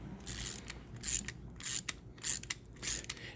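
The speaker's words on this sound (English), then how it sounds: "all you need is just a box wrench or a ratcheting wrench" Ratcheting wrench on the belt tensioner of a 2011 Toyota Camry, a close, loud series of five or six quick ratchet bursts in an uneven rhythm, with no talking.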